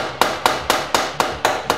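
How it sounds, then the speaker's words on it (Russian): A hammer taps galvanized sheet metal along a marked fold line while an elbow is being formed: seven sharp, close metallic strikes fall at a steady, even rhythm, with no talking. "Когда я стучу по этой линии, он легко идет по этой линии"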